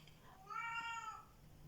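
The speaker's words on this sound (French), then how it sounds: "là, vous voyez comment ma minette miaule." An elderly pet cat gives a single drawn-out, tonal meow lasting under a second, faint and close against a quiet room hum, with no talk over it.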